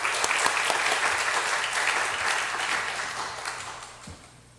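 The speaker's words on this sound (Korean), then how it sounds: "큰 박수로 환영해 주시기 바랍니다." An audience at a lecture on Edwards' doctrine of justification gives sustained, loud applause to welcome a professor, with the clapping thinning and fading toward the end.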